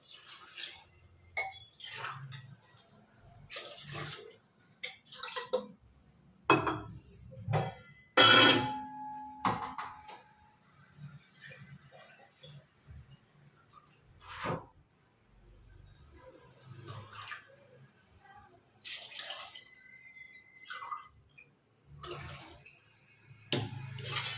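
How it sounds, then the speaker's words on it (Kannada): Water splashes and trickles in short bursts into a pot of rice for vegetable pulao, with quiet gaps and some clattering between pours. "ಹಾಗಾಗಿ ಮೂರು ಲೋಟ ನೀರು ಹಾಕ್ತೀವಿ"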